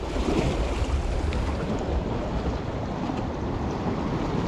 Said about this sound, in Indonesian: Hari ni laut bergelora lagi.